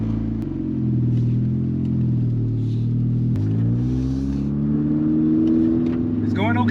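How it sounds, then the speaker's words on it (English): Classic Honda car, freshly fitted with new spark plugs, driving around the block: a steady close engine rumble from inside the cabin that rises and falls with shifts and revving, and a person talks over it. "it is time to go for a drive and see if the new spark plugs helped"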